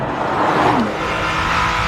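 A Nissan GT-R engine revs hard at high RPM, a loud close roar with a rising then falling pitch sweep over a dense, continuous mechanical growl, no voices.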